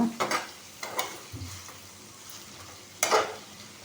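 Cumin seeds hit hot oil in a pan, crackling in short bursts with scattered stirring scrapes, then a louder final burst of sizzle near the end.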